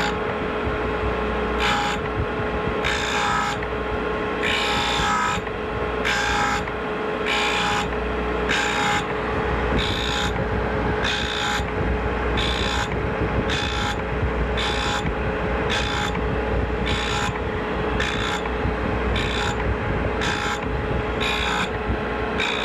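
A steady grinding whine runs continuously, broken by regular short rasping bursts as a drill bit's spiral point is pressed against a spinning grinding wheel, loud and close.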